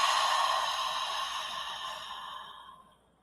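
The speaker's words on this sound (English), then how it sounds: "So I teach ha breathing that I learned in my NLP training." A long forceful "ha" out-breath from a breathing exercise for managing stress while quitting smoking, a close, breathy exhale that slowly fades to silence.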